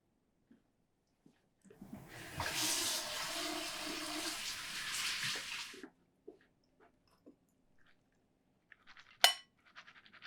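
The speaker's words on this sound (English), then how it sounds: "Now they're going to need a really good rinse." Running water gushes from a tap for a few seconds as pumpkin seeds are rinsed, a close hissing splash that stops abruptly, followed by faint clinks and a sharp knock.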